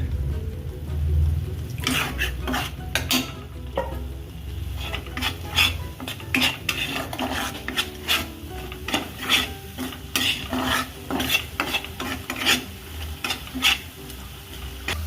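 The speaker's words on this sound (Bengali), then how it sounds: "দেখুন এবার এটা যতক্ষণ তেল না বেরোচ্ছে ততক্ষণ এরম করে নাড়িয়ে যেতে হবে" Shrimp malaikari masala being stirred in a pan, with repeated scraping and clinking of a utensil against metal over a soft oily sizzle, close and fairly quiet, no talking.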